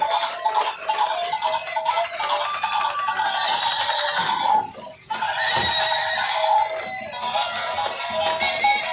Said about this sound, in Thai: ม้าครับ